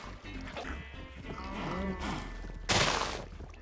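Cows lowing in Minecraft on a farm with sheep and pigs, a couple of drawn-out moos over steady game ambience, followed by a louder burst of noisy game sound near the end.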